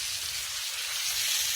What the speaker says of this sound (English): I'm going to make sure I get this into my hot skillet and get it seared on both sides real quick.